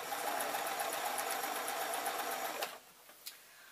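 A sewing machine stitches a padded dust cover in a steady, close whirring run that stops abruptly near the end, leaving a quiet room with a couple of small knocks.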